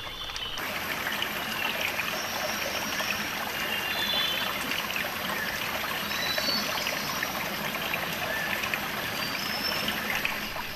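A waterfall where birds nest beneath the falling water, a steady rushing splash of water heard close and continuous, with faint high bird chirps above it.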